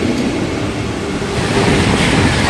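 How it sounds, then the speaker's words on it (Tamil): A Vande Bharat express train runs past at close range on its Coimbatore to Chennai Central route, a steady loud broadband rumble of wheels and carriages that swells slightly toward the end. "கோயம்புத்தூரில் இருந்து சென்னை சென்ட்ரல் போகக்கூடிய வந்தே பாரத்துங்க."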